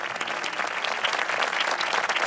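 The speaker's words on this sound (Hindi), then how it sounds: "बहुत सारी तालियां होनी चाहिए।" Dense, steady applause from a studio audience on a Ramzan quiz show, sustained without break and fairly loud throughout.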